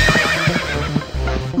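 Horse neighing loudly and near beside a horse cart, the whinny mixed with clip-clop of hooves and a musical backing track in a children's rhyme.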